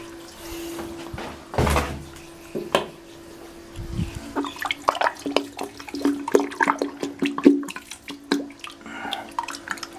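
A 2015 Balterley Beo Regent toilet flushing close up: a sharp lever clunk, then a rush of water draining down the bowl, followed by trickling and gurgling refill with irregular drips and splashes.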